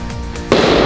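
A firecracker set off for New Year bursts suddenly about halfway through, a loud broadband crack following a steady outdoor hum.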